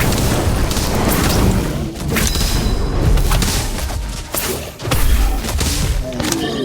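The Incendio fire spell erupts in the mobile game Harry Potter: Magic Awakened as a dense, loud barrage of booming blasts and heavy thuds. The rumble is nearly continuous, with a few brief dips between surges.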